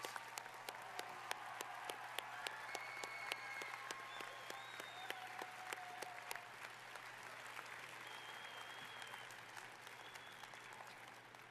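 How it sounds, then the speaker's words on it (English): An audience at a University of Utah College of Engineering convocation applauds the faculty, a steady, moderately distant wash of many hands with sharp individual claps standing out, and faint voices and a low hum beneath. "Let's give the faculty a big round of applause."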